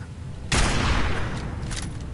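A gunshot rings out in Fallout 4, a single loud broadband blast that starts abruptly and fades into a long, echoing tail over ambient game background.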